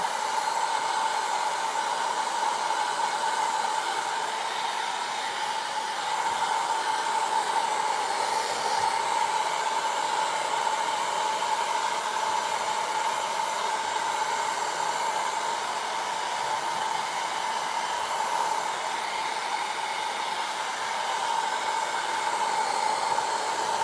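A hair dryer blows steadily on a dye-coloured wood turning, a loud continuous whooshing roar with a constant whine that holds without a break for the whole stretch, with no talking.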